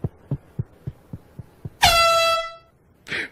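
A cartoon horn gives a loud, bright toot that sustains for under a second and then trails off. A faint rhythmic thumping comes before it, and a short noisy burst follows.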